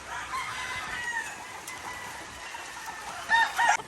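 A white Kelso cross gamefowl rooster crows near the end, a short bright call over a steady outdoor hiss on a gloomy, windy day, no one talking.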